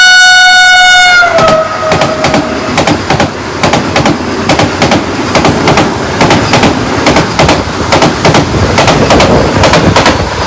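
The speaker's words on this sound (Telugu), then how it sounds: "వందే భారత్ ట్రైన్ గురించి ఆపారు." A Vande Bharat train passes close by: a loud horn blast opens, then a rapid, rhythmic clatter of wheels over rail joints continues steadily to the end, with no talk.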